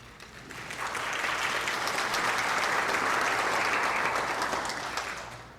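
A congregation at a Shabbat worship service applauds a welcomed guest speaker, Dr. A.J. Levine, with dense, steady clapping that builds quickly, holds for several seconds and then tapers off.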